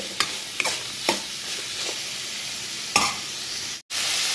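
Onions fry in a little oil for Muslim-style chicken fry while a spatula scrapes the pan in about five sharp, evenly spaced strokes over a steady sizzle, with a brief dropout near the end.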